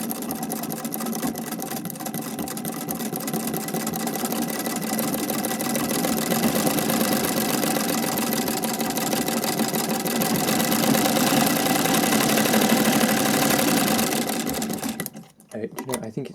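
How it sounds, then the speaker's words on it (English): A vintage Singer treadle sewing machine fitted with a Swiss zig zag attachment stitches a spare piece of fabric, running steadily with a dense rhythmic clatter for about fifteen seconds, then stopping abruptly. "Let's just use this spare bit of material to do a slightly longer stitch and just see how that looks."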